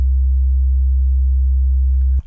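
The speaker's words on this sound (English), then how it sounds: "So even though this is a sine wave" A pure sine wave test tone generated in Ableton, holding one steady low pitch loudly for about two seconds before cutting off abruptly.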